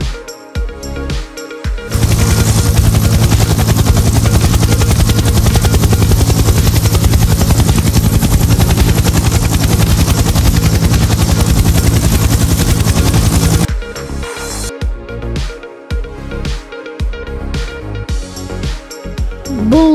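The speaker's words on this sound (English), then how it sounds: "Helicopter. Helicopter." A helicopter roars loudly and close by for about ten seconds, its rotor chopping in a steady rhythm, then cuts off abruptly.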